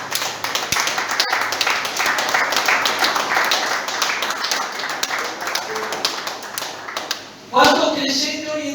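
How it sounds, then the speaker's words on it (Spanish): A church congregation claps in a sustained, dense round of applause with some sharp taps, fading briefly before a voice begins speaking over the last moments. "Aplauda al que vive"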